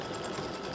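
An embroidery machine stitching a tiny satin stitch outline on an appliqué St Patrick's Day gnome design, a brief, steady, close mechanical whir with no pauses.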